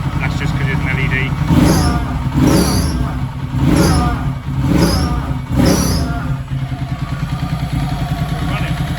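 A motorcycle engine running close by with a steady low rumble that swells in several rhythmic revs, while a voice talks over it.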